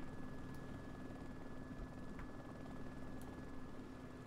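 Helicopter in the DayZ video game flying over the North Airfield, a steady droning rotor and engine hum holding at constant loudness throughout, with faint distant thumps.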